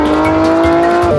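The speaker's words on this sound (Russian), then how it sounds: "Машину вот я недавно ее купил, это Nissan E370." A Nissan 370Z sports car drives by with a loud, steady engine tone and a tyre hiss, close and continuous for just over a second, with no talking.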